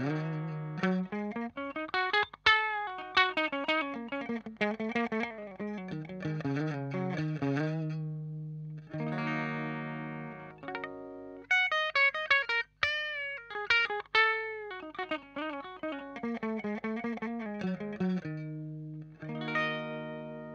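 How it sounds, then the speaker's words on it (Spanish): Ibanez RG550 Genesis electric guitar on the bridge pickup with a clean, undistorted tone, playing quick runs of single notes and chords with short pauses between phrases, close and alone. "Es el sonido sin distorsión. Sonido limpio."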